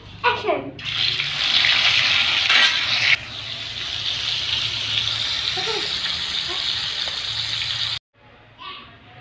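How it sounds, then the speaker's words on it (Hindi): Fish and potatoes sizzle in a home kitchen pan, a steady loud hiss of frying that runs almost unbroken for several seconds before cutting off abruptly, with faint clatter at the start and end. "मछली और आलू दोनों मैंने फ्राई कर लिए है"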